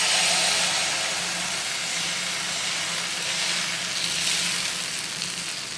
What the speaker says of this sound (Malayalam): മാവ് ഒന്ന് മിക്സ് ചെയ്തതിന് ശേഷം ഒഴിച്ചു കൊടുക്കാം.